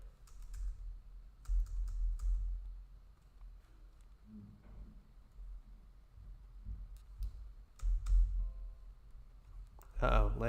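A computer keyboard clatters in scattered bursts of close keystrokes, with pauses between them, over a low room rumble, and a voice speaks briefly near the end.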